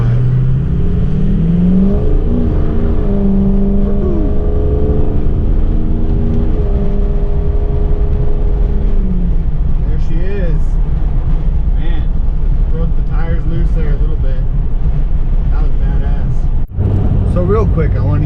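A Ford Powerstroke diesel truck accelerates hard from about 10 to 65 mph, its engine droning loudly and steadily climbing in pitch through the gears, heard from inside the cab with no voice over it.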